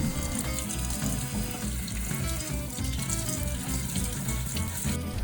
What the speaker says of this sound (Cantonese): 將所有嘅藥材放入清水洗走啲塵。